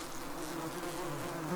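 Yellow jacket wasps buzz around a large nest being removed, a dense, close, continuous droning hum from many insects at once.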